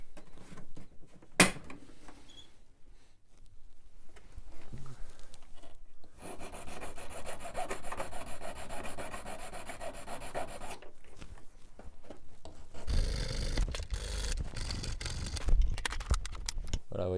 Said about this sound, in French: Et on va mettre un petit coup de lime et puis ça va aller mieux.